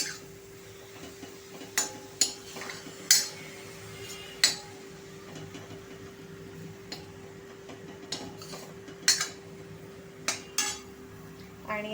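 Spinach sautéed in a pan for dhaba-style dal palak, a spatula tapping and clinking against the metal at irregular intervals over a low, steady hum, with little audible sizzle.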